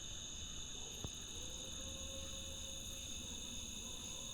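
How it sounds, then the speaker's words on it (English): Crickets and other insects chirp steadily through a quiet night outdoors, a continuous high-pitched trill with no talking. "The further I go, the more those bugs start to come in."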